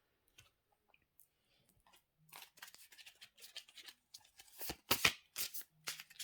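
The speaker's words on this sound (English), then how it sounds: "I'm shuffling the Reiki cards for you." Soft riffling and snapping of Reiki cards starts quietly, then grows into several quick, crisp shuffles close by, with short pauses between bursts.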